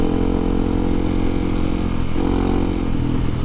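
Honda CRF250L Rally dual sport motorcycle riding along a road near Waynesboro and Michaud, its engine a steady close drone throughout with a brief rise in pitch partway through.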